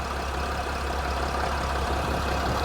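A Mercedes Sprinter van with an oil leak under the engine idles steadily and close by, a continuous low rumble with an even hum and no change in speed.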